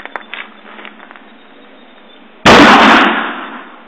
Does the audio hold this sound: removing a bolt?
no